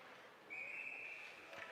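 A referee's whistle at an ice hockey game gives one steady, fairly faint blast lasting about a second against a quiet rink ambience.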